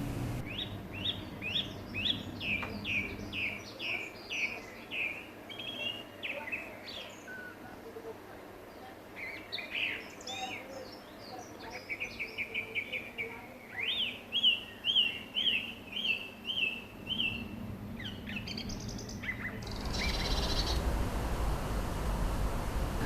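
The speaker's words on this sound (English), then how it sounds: "a song thrush sings to us from a chimney pot" A song thrush sings from a chimney pot, repeating bright, whistled phrases in short bursts with pauses between them. The song is fairly close and clear over soft outdoor background noise, and a steady hiss rises near the end.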